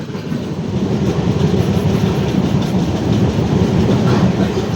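Steady, close rumble of a moving passenger train on the Kollam to Coimbatore line near Valayar, with rhythmic wheel clatter on the rails and no talk.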